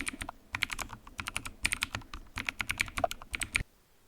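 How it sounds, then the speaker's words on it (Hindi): Typewriter typing sound effect with a rapid, steady flurry of sharp keystrokes for several seconds, close and clear, ending abruptly in near silence. "तो हम टाइप राइटर का जो साउंड इफेक्ट है वो भी लगा सकते हैं।"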